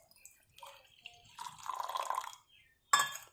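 Homemade rose water is strained and poured into a bottle, giving soft close trickles and drips that swell into a short pouring run, then stop before one sharp glassy clink.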